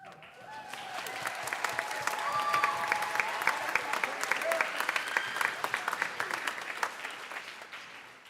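Steady applause from an audience at a school spring band concert, a dense patter of many clapping hands building slightly and then fading, fairly distant with faint voices underneath.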